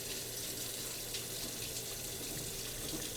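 Cold tap water runs steadily into a sink over boiled potatoes, a constant splashing hiss at moderate level with no talking.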